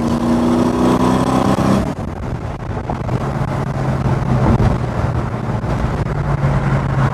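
An engine revs hard with rising tonal harmonics, then drops into a steady rumbling drone mixed with wind buffeting.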